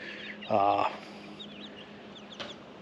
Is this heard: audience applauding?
no